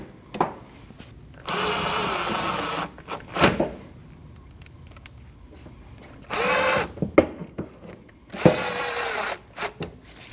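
A power drill drives screws into a Nissan NV2500 van while fitting a mud flap, with three sustained whirring bursts and scattered clicks and handling knocks between them.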